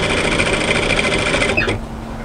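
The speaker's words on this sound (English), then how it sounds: "I'm just sewing the stitch guides, following the stitch guides on my plate." A sewing machine runs steadily stitching a raglan cut hoodie, a close, loud rapid whirring chatter that stops abruptly near the end.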